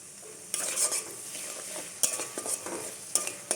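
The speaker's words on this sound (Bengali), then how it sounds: "তারপর সামান্য একটু জল দিয়ে এটা কষিয়ে নেব" Ground cumin, coriander and chilli powder stir-fried with a splash of water for vegetarian chana paneer, a soft sizzle broken by sharp scrapes and taps of the spoon on the pan, close and without talk.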